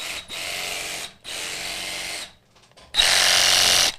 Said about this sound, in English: the saw blade just oscillates back and forth really, really quickly